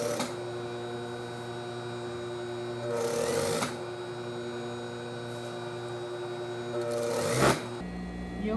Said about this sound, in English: And doing a top stitch.